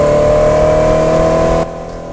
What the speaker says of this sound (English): I'm driving the 1995 Lotec C1000